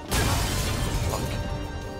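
Glass shattering aboard a train in Final Fantasy XV, a loud crash with scattering shards that keeps ringing as dense debris throughout.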